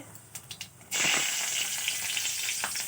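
Bengali five-spice and potato, brinjal and flat beans hit hot oil in a kadai, bursting into a loud, steady sizzle after a few quiet clinks and taps.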